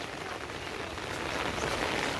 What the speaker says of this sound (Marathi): पाऊस थांबण्याचं नाव नाही घेत आहे जरा पण